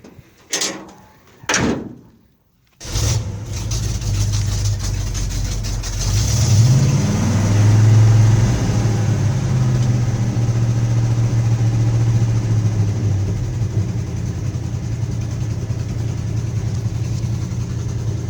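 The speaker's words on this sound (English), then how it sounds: "I gotta keep my foot on the gas for just a little bit, let it warm up." A 1970 Ford F250 farm truck warms up: several door thumps and short bangs come first, then the engine starts and runs loud and steady with the throttle held slightly open, the drone rising briefly before settling.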